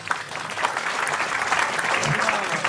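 Dense, steady audience applause fills a hall during a Cak Nun talk, holding at an even level for the whole stretch with no break.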